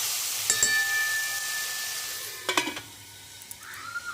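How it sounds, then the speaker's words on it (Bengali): Tomatoes and salt sizzle in a pan while being stirred for Bengali-style chutney. A soft, quiet frying hiss is broken by a few clinks and scrapes from a spoon against the pan. "লবণটা দিয়ে আমি একটু নেড়ে চেড়ে চাপা দিয়ে দেবো যাতে টমেটোটা গোলের মতো যায়"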